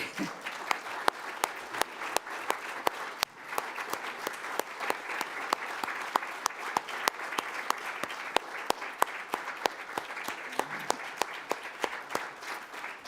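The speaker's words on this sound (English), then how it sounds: "Let's applaud everybody." A congregation at a Sunday church service applauds, a steady, dense wash of many hands clapping at even loudness throughout, with a few sharper individual claps standing out and no talk over it.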